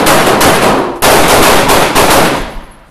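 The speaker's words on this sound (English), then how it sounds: "Shots fired, shots fired." Police gunfire rings out through a glass vestibule: a rapid volley of very loud, close shots, a second burst after a brief gap, then the sound tails off.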